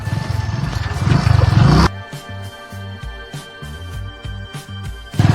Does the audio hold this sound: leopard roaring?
yes